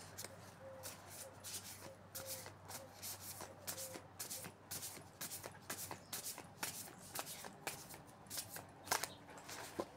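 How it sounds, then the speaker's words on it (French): Tarot cards shuffled by hand, a steady run of soft riffling and flicking bursts, close and fairly quiet, continuing without pause throughout. "Je vais les battre de l'autre façon parce que j'y arrive pas comme ça"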